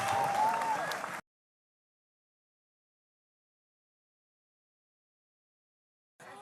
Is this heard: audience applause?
yes